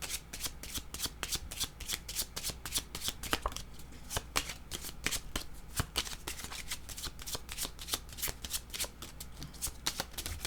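Small purple oracle cards are shuffled close up in a steady run of quick, crisp riffling flicks that go on unbroken, with no talk.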